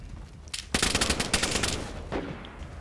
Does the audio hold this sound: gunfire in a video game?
yes